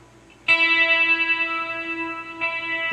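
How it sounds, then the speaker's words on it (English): A guitar note played through a Zoom G5 effects processor with a long echo delay sustains as a bright ringing tone, and a repeat of the note returns about two seconds later, close and alone. "That's a long echo."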